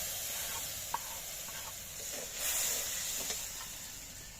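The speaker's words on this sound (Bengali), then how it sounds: "মশলাটা ভাজা হতে থাকুক" Soft, even hiss of a water-mixed spice paste frying in hot oil with ginger and chillies, fairly quiet and close, with a few small clinks and no voices.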